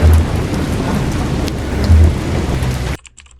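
Heavy rain pours steadily with deep rumbles of thunder building and cracking midway, loud and close, in a storm scene of a Malin Kundang folk drama where lightning strikes; it cuts off abruptly near the end.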